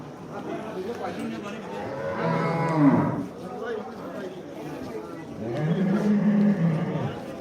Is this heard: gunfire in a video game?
no